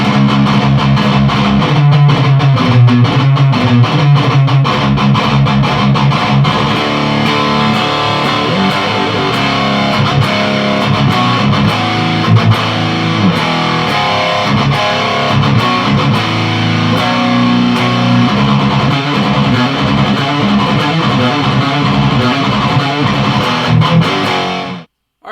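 Electric guitar played through a Diezel VH Micro 30-watt amp with the gain dialed back slightly for a tight metal tone, a sustained stretch of loud distorted chugging riffs and chords that cuts off abruptly at the end.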